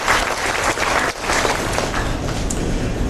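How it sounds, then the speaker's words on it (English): A large audience at a talk on financial inclusion gives a full round of applause, a thick, loud, continuous clatter of many hands with a brief dip partway through. "I'd like to have everybody give you a round of applause"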